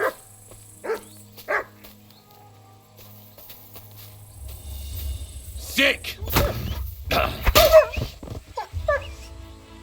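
Dogs bark in Kingdom Come: Deliverance II during a hunt near a village, a few sharp barks early, then combat thuds and scuffling with brief talk over them.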